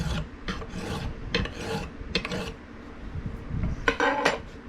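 Sandpaper is rubbed by hand along the steel blade of a Cold Steel Laredo Bowie knife in a full tang conversion, making a series of close, dry rasping strokes in an uneven rhythm with no talking.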